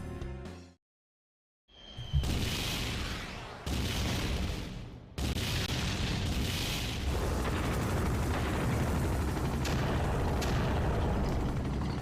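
Dwarven tanks firing in Final Fantasy IV, a sudden silence then heavy booming blasts with rumbling explosions stacking into a continuous loud barrage.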